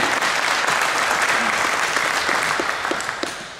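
Audience applause in a youth sports coaching session, steady dense clapping that holds for several seconds before tapering slightly toward the end.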